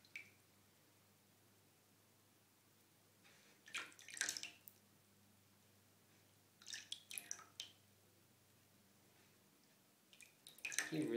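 Warm bathwater around a baby bearded dragon being soaked for a tail shed, heard as faint, intermittent splashes and squishy drips in three short bursts separated by near-silence.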